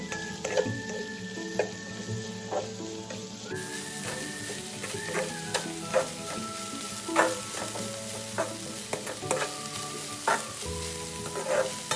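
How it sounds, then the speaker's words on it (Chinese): Chives stir-fried over high heat in a wok for chive and shrimp fritters, a steady sizzle punctuated by repeated scraping and tapping of the spatula, close and fairly quiet, with no talking. "大火快炒个半分钟就好。 这样炒一炒，韭菜比较香"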